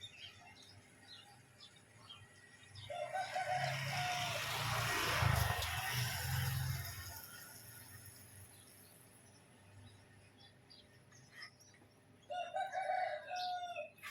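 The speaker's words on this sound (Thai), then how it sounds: "เสียงไก่ขัน" A rooster crows loudly in a long drawn-out call, with another bird's call briefly before and after, in a Thai village; no one speaks.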